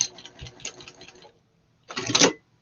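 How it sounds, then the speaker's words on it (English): Juki straight-stitch sewing machine running on fabric for a pot holder, two short bursts of rapid mechanical clatter separated by a pause, close and fairly loud. "So I'm just going to sew kind of as close to the edge of the fabric as possible."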